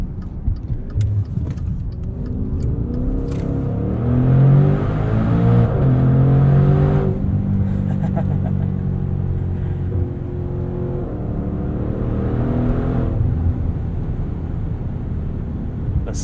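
Maserati Levante SUV with a 3.8-liter V8, its deep exhaust note and turbo induction whoosh rising and swelling steadily as the engine revs and accelerates, loud and sustained throughout with no talking.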